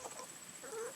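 Chickens at a coop give a brief, faint cluck or two over soft background noise.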